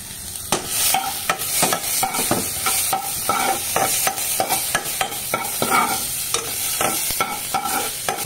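Chopped garlic and onion frying in a pan with oil, stirred constantly so they don't burn. A loud, continuous sizzle is broken by frequent sharp scrapes and knocks of the spatula against the pan in an uneven rhythm, close up.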